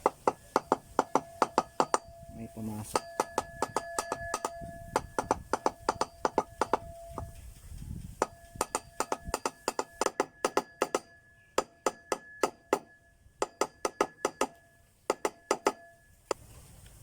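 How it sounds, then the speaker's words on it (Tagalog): Repeated sharp metallic hammer taps on a 7 kW hub motor cover being hammered into place, in bursts, some quick runs and spaced single strikes, close by, with a brief spoken phrase early on. "Pupukin ko lang muna na martilyo para"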